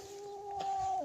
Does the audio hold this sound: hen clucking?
yes